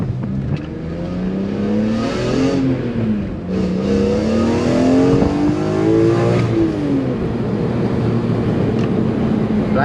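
BMW E46 M3 engine revving toward 8000 RPM, loud and close, climbing in pitch twice with a brief dip between, then settling into a steady high drone.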